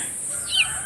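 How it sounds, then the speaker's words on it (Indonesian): A village chicken in a rural settlement in Gombong, Cikadu, West Java, gives a short, faint crow-like call over steady outdoor ambience, with no talking. "ayam ge"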